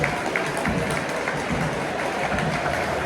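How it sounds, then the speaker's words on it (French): A stadium crowd applauds Montpellier players at a football match at La Mosson, a steady wash of clapping and crowd noise with no clear voices standing out. "Ah, ils se font applaudir là."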